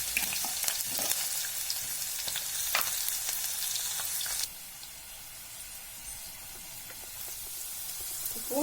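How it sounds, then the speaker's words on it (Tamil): Garlic sizzles in hot oil with popped mustard seeds, a bright crackling fry with sharp spatters and pops, loud at first, then quieter and steadier after a sudden drop, with a faint clink of stirring. "கடுகு வெடிச்சதும் பூண்டை போட்டு கொஞ்சம் வறுத்துக்கோங்க"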